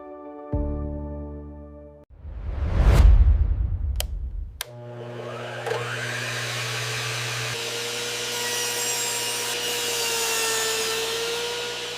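A powerful compact mini table saw cuts wood. Its motor whirs up to a loud roar and winds down, then restarts into a sustained, slowly shifting whine, close and loud with no speech.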